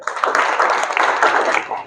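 Crowd applause for a first prize winner at an interview-tips session, steady dense clapping from a nearby group throughout.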